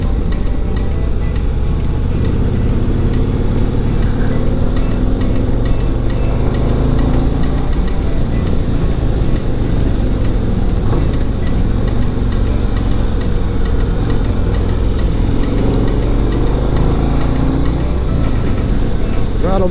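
Steady engine drone and wind rush from a brand new touring motorcycle being ridden on the road, loud and continuous throughout with no break.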